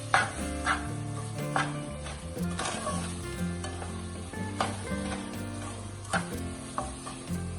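Milk cooks down in a pan of makhandi halwa with a continuous sizzle and occasional stirring scrapes, partly under steady background music.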